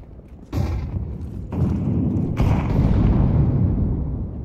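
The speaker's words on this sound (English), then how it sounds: "Flashbang!" A flashbang grenade goes off in a team-based tactical shooter, with sharp broadband bursts landing one after another, then a loud, sustained ringing roar that slowly fades away.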